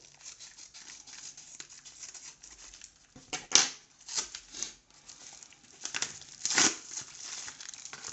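A parcel ordered from AliExpress is unwrapped by hand, with soft crinkling of packaging broken by a few sharper tearing rips, close and quiet, with no talk.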